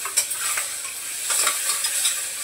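Chopped onion and tomato sauté in a pan with a steady close sizzling hiss, broken by a few soft stirring scrapes, with no talking.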